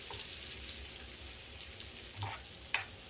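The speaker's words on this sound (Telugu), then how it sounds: "ఇప్పుడు ఇవి వేసుకోవాలండి, పన్నీర్ ముక్కలు. ఇట్లా కొంచెం ఫ్రై కావాలి." Paneer pieces sizzle and fry in a hot pan, a steady close crackle with a couple of small stirring knocks near the end.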